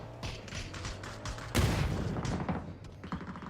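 A grenade blast in the battle royale game PUBG, a sudden loud boom of broadband noise midway through, ringing out over a steady backdrop of scattered gunfire and game ambience.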